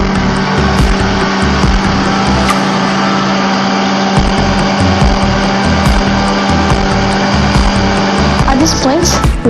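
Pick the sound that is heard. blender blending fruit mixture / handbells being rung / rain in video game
blender blending fruit mixture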